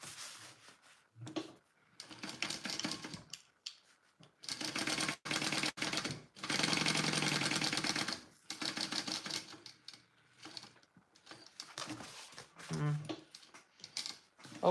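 A sewing machine topstitches a Karvi mini backpack in rapid mechanical bursts of stitching, stopping and starting with clicks and handling noises between runs, close-up and fairly quiet.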